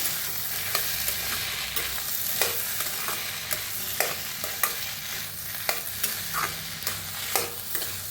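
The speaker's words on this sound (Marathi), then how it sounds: "आता भाजीला मिक्स करूया" Potato filling for vada pav is stirred and mixed in a hot pan, a steady sizzle broken by repeated scraping strokes of a spoon at a fairly regular rhythm, close and alone.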